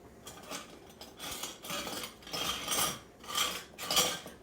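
Metal kitchen utensils clink and clatter in several separate bursts as someone rummages for a small scoop while making mini Derby pies. The sound is close but fairly quiet, with short pauses between handfuls.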